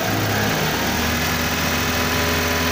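A car engine is revved and held steadily at about 2000 RPM while the air-fuel ratio is tuned, giving a constant, loud mechanical drone with only a slight shift early on.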